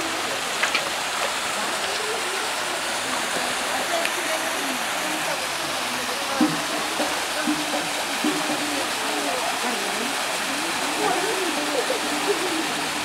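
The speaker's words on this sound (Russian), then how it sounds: "Пойдешь к водопаду? Встанешь туда?" A waterfall near Gelendzhik rushes in a constant broadband roar, with people talking over it now and then.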